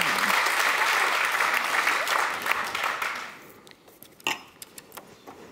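An audience at a book presentation claps in a thick, steady burst that fades out after about three seconds, leaving a few scattered claps and light clinks of glass or cutlery.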